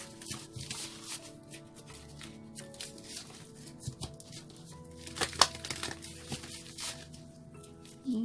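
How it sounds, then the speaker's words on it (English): Tarot cards shuffled by hand, soft riffling and crinkly card flicks repeating close up in irregular bursts, quiet and without talk. "3 more shuffles, they say."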